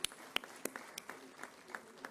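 Applause for a lifetime achievement award at an agricultural university event in Lucknow: scattered, sparse claps in a quick irregular patter, fairly faint and thin, as if from a small part of the crowd.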